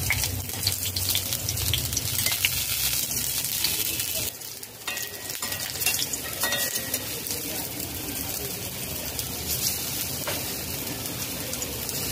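Small chana dal fritters, coarsely ground lentil batter shaped into little balls, fry steadily in oil over a low to medium flame for a vegetarian mankochu dish. A continuous close sizzle runs throughout with occasional stirring clinks and no talk.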